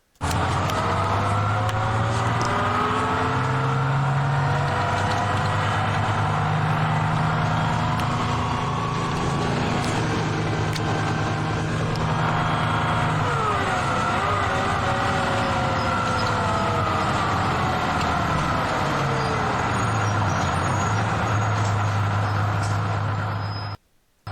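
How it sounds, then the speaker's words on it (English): A Detroit Diesel 6V92 two-stroke engine in a 1981 GMC RTS city bus drones loudly and steadily from close by, its pitch rising and falling slightly as it revs, before cutting off abruptly at the end. "the use of the Detroit Diesel 6V92 engine"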